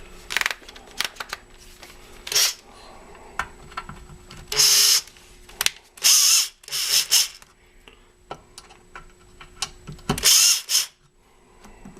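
Short bursts of a cordless driver's whir tighten the carburetor screws on a Briggs and Stratton Pulsa-prime engine, separated by light clicks and handling noises, close by with no talking.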